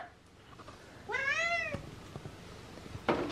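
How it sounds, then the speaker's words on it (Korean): A hungry cat lets out one clear, close meow with a rising, falling tone, followed by a few faint soft clicks and a brief scuffle in a quiet room. "배고픈 고양이."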